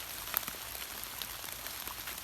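Rain falls steadily over a garden, a soft continuous hiss dotted with faint scattered drop taps throughout, with no voices.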